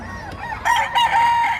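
A Henny rooster crows at a busy chicken market in Padre Garcia, Batangas, one loud, close call rising over background chatter and other birds.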